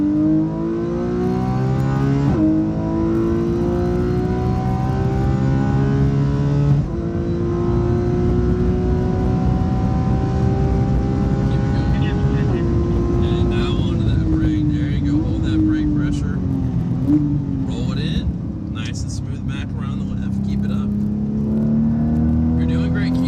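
A car drives hard on a race track with a loud interior engine note that climbs and drops through gear changes and braking, while a coach's voice talks over it.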